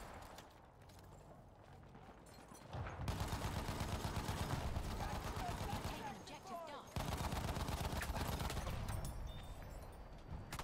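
Battlefield 1 combat on the Amiens map, with loud machine-gun fire and explosions in continuous bursts, set in mortar-heavy play alongside an MG 15, and a voice heard under the din.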